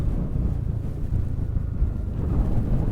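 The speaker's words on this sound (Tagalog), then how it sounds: "Lakas ng hangin. Ilang lakas ng hangin." Strong wind buffets the microphone in a steady low roar, rumbling and constant, with no voices.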